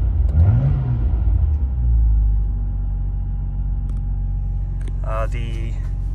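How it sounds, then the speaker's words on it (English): A 1999 Nissan Skyline R34 GTR idles at steady revs, a close, constant low rumble, while someone speaks briefly at the start and again near the end. "take care of the engine running video while I can. RPMs are holding fine"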